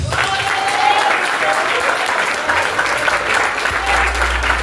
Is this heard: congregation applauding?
yes